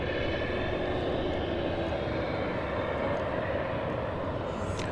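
McDonnell Douglas MD-11 jet at Dallas Fort Worth Airport being loaded, a loud continuous roar of jet engines and airport machinery from a steady distance, with a faint rising whine near the end and no speech.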